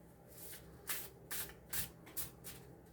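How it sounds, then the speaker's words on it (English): A tarot deck is shuffled by hand in five quick riffling bursts at an even pace, close and fairly quiet, with no talking. "So we're going to shuffle it and let's get started."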